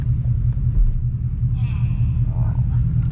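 An S550 Ford Mustang GT's V8 rumbles loud and close under hard driving, a deep steady growl throughout, with a voice talking over it.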